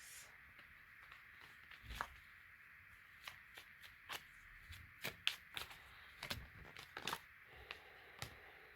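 Tarot cards shuffled nearby, with quiet riffling and a run of sharp snapping flicks and slaps that arrive in irregular bursts over a faint background.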